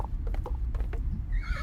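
A horse neighs in the Soul Axiom video game, a short whinny rising near the end over steady low background rumble and a few faint clicks.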